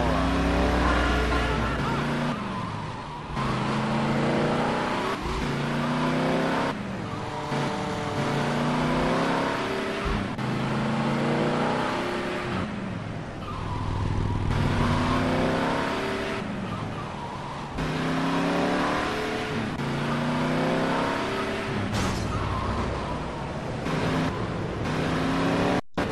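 Steady car engine droning and shifting pitch while driving in GTA Liberty City Stories, continuous and fairly loud, with voices talking over it at times.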